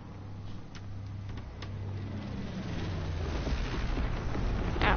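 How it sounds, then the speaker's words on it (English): Incendiary bomb dropped in a WW2 video game: a broad, rising rumble and roar building steadily over several seconds, with low engine drone beneath and a sharper burst at the end. "Dropping incendiary."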